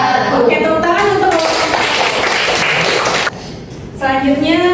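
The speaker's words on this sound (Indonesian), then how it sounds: "tepuk tangan untuk" Audience applause at an Indonesian university teaching certification session, dense clapping filling the first few seconds with voices mixed in, dropping away before talk resumes.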